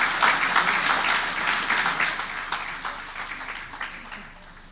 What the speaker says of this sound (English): Another round of applause for Ms. Bhakti Shah.